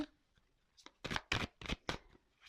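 Tarot cards being shuffled by hand to draw an advice card, a quick series of four or five crisp riffling bursts, close and clear, following a faint, brief voice.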